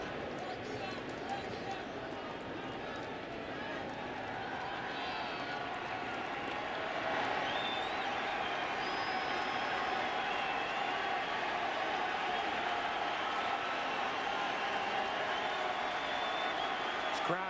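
A large stadium crowd murmurs and cheers at a 2011 World Series game between the Cardinals and Rangers, a distant, sustained roar with scattered whistles, lifting midway, under a commentator's talk.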